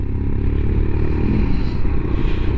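Royal Enfield Himalayan motorcycle fitted with a 36-tooth rear sprocket pulls hard along a straight, its single-cylinder engine thumping loudly and steadily up close, with wind and mechanical clatter mixed in.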